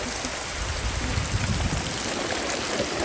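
Steady rain falls around a hut in a rice field, a dense, even hiss with patter on the roof, close and continuous, with no voices.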